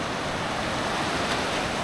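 Sea waves wash at a beach in Nagtabon, a continuous broadband roar with wind buffeting the microphone, loud and unbroken with no voices.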